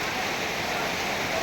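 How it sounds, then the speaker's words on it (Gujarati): Heavy rain pours steadily at the foot of Ratan Mahal under a cloud-filled evening sky, a dense continuous hiss with no breaks across the whole moment. "ખૂબ સુંદર વરસાદ થઈ રહ્યો છે"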